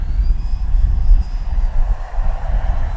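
E-flite Twin Timber RC airplane coming in to land, its motor whine droning steadily and fairly close throughout, with wind rumble underneath and no talking.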